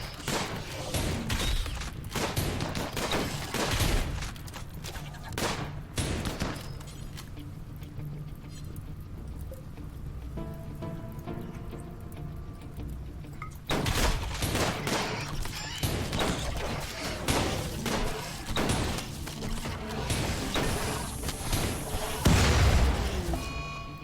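Gatling gun fire in RimWorld, dense rattling bursts of rapid shots in long stretches, loud and close, broken by a quieter lull in the middle before the firing resumes.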